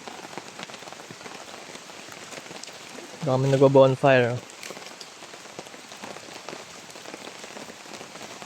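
Steady rain pattering on a taut tent overhead at a mountain campsite, continuous and close, with a person briefly speaking partway through.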